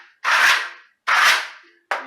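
Scraping strokes of a tool knocking nubs off a dried mesh-tape drywall patch: two long rasping passes and the start of a third, close and fairly loud with no talking.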